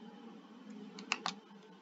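A few quiet keystrokes on a computer keyboard as numbers are typed into code, a couple of close clicks in quick succession over a faint steady hum, with no talking.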